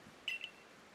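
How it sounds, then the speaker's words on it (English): In the video game Pokemon Legends Arceus, an ARC phone gives a quick double electronic beep, two short high tones, clear but quiet over a faint background hum. "Your ARC phone is beeping"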